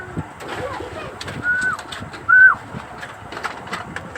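Pigeons in their new cage give soft cooing calls with a couple of clearer coos standing out, close by over faint background rustle and wind noise.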